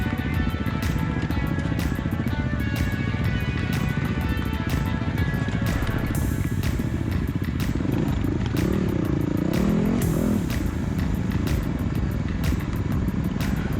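Dirt bikes, including Husqvarna 501s, KTM 450s and a Yamaha WR450, ride a forest single trail in Watagan State Forest, New South Wales, with a loud, continuous, revving engine drone and rattling clatter, the pitch shifting midway.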